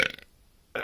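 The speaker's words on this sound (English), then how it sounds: "I've burped again" A man burps after drinking Samuel Adams beer, a short, rough, close belch followed by a pause and the start of another sound.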